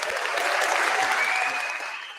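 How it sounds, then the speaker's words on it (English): Audience applause for Milwaukee Bucks basketball players at a sports event, a brief, dense burst of many hands clapping that holds steady and then fades slightly. "Bobby, Miles, AJ, Pete, Cormac, give them a round of applause"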